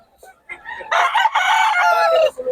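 A rooster crows loudly and close by: one long, drawn-out cock-a-doodle-doo after a few short clucks.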